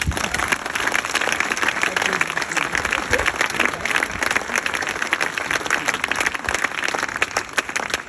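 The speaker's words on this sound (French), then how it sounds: "Applaudissez-vous." A crowd at a political rally in La Réole claps steadily and loudly for the full eight seconds, a dense close wash of many hands with scattered cheers mixed in.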